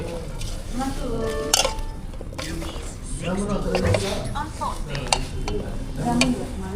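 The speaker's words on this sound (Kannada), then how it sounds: "ಈಗ ಇದನ್ನು ತಿರುಗಿಸುತ್ತಿದ್ದಾರೆ" A spoon scrapes and stirs mushroom kebab batter in a bowl with light clinks, while people talk over it.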